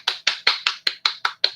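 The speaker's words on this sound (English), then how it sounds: "Let's give him another round of applause." A steady run of about eight evenly spaced handclaps, close and fairly quiet, applauding a presenter at the end of a science-teaching webinar session.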